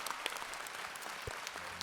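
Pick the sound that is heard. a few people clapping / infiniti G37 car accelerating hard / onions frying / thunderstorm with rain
a few people clapping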